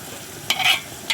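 A spoon stirs tomato-sauced food frying in a pan, giving two short scraping strokes over a steady soft sizzle, close and fairly loud, with no talking.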